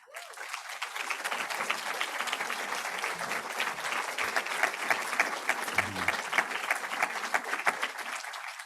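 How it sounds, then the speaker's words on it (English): An audience at a closing ceremony applauds steadily, a dense sustained wash of many hands clapping that holds at an even level throughout. "A quick round of applause."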